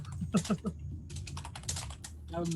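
Fingers tap a computer keyboard in quick irregular clicks close to the microphone, with a few louder keystrokes and brief voices murmuring in the background.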